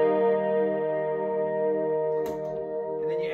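An electric guitar played through a Vox AC15 amp and a Strymon tape delay pedal holds a sustained chord with echoing repeats, followed by a short pick attack near the end.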